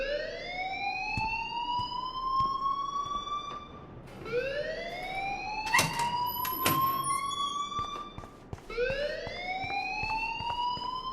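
In the video game Life Is Strange, a school alarm wails in three rising electronic sweeps, each climbing then holding, with a few sharp clicks and thuds in between.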